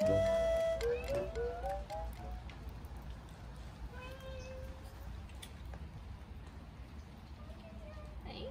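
A cat meows a few times, close by, outdoors in an Alpine village during a sudden rain shower. Steady rain patters underneath and people talk around it.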